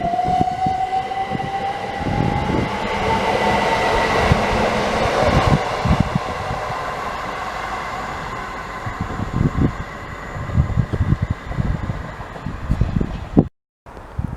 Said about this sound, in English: Okay, passing goes now. It's another Stadler flirt.